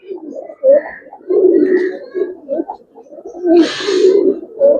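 Pigeons coo in repeated low, throaty bursts, close by, with a brief rustle of flapping partway through; the birds are ornamental breeds kept for sale, silver Giribaz and red Mushaldom.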